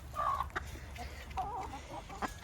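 Backyard chickens in a big flock cluck and murmur in short, scattered bursts, fairly soft and nearby over a low rumbling background.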